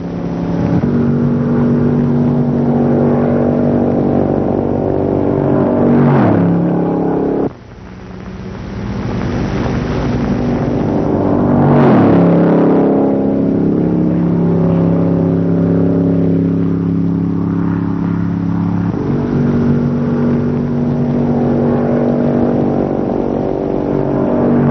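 A 1960 Buick Invicta drives laps on a test track, its engine a steady sustained drone with tonal harmonics that dips briefly and then rises again, mixed with wind rush.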